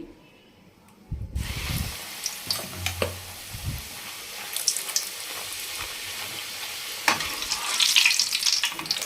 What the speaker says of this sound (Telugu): ముందుగా చేసి పెట్టుకున్న పూరిని అయితే ఈ ఆయిల్లో వేస్తున్నానండి